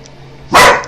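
A dog gives one loud, close bark that bursts out sharply and fades within a fraction of a second after a quiet stretch.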